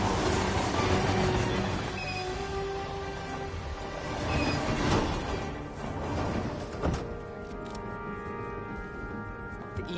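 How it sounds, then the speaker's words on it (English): A train rumbles along the track in the Hitman video game, a dense, continuous roll with faint wheel squeal and clatter that eases slightly toward the end, with no voices. "The Ether Corporation bought this train."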